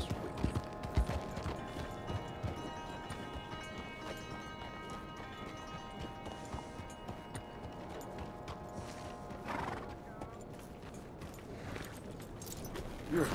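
Steady clip-clop of galloping horse hooves in Red Dead Redemption 2 runs throughout, with faint jingling tack and a brief whinny near the start, over an ambient musical backdrop.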